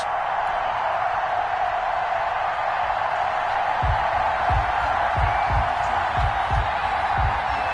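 Stadium crowd roar in a football video game at a Patriots versus Bills matchup in Buffalo, a loud continuous wash of cheering with low thumps, heard under occasional commentary.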